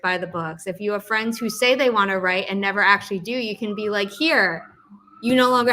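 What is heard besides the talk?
No everyday noise stands out behind the speech.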